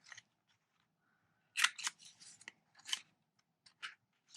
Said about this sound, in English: we want to trim these corners on both sides